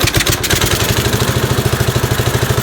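Cub Cadet 129 lawn tractor engine, just after heavy smoke, cranking and catching, then running in a steady, loud, rapid chugging idle with metallic clatter close by.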